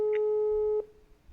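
A telephone call tone sounds while a call is being placed, one steady electronic tone holding for under a second before cutting off, leaving faint room noise.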